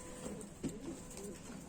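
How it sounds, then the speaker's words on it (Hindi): A small high-flyer pigeon from a Bareilly breeding loft gives a brief, soft coo near the middle, set against a quiet, steady room hum. "बहुत ही प्यारा और छोटा सा कबूतर"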